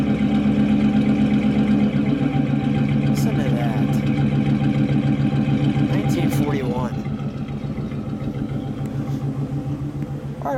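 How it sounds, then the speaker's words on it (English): A 1941 Cadillac engine idles smoothly with a steady, low exhaust rumble that runs throughout, close and even, while people talk briefly over it. "And we'll get a little exhaust note there."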